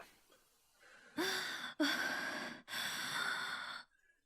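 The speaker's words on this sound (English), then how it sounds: "Okay, so Miharu is panting as well." A female character in the visual novel game Yukikoi Melt pants in quick, breathy bursts, close and fairly loud, with short pauses between gasps.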